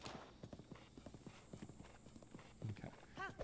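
Horse hooves clip-clop in a steady galloping rhythm in Zelda: Breath of the Wild, fairly close, with a brief higher chime near the end.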